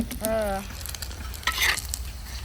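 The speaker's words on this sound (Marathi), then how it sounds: "लाल बोंबील तळलं" Bombay duck (bombil) fish frying with onion in a pan, a steady sizzle with stirring, a brief tonal hum near the start and a brighter burst of crackle about two-thirds through.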